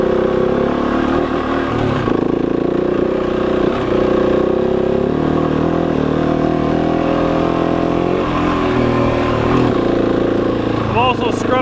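A Husqvarna 701 Enduro motorcycle accelerates off road, its single-cylinder engine droning loud and steady with rising and falling pitch as the throttle opens, heard close and continuous.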